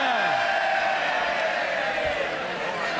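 Members of Parliament in the House of Commons cheering and shouting in full voice, a loud, dense crowd roar that holds steady throughout.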